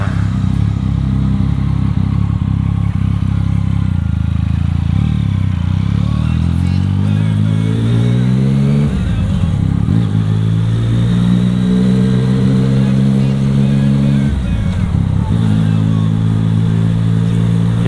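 Yamaha MT-09 with its three-cylinder crossplane engine, heard while riding: a loud, steady engine note that climbs through several rising gear pulls, dropping briefly at each shift, over continuous road and wind noise with no talk.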